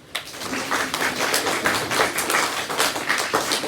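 A small audience at a school maths quiz competition claps steadily for a few seconds, a dense patter of hands starting sharply and continuing without a pause.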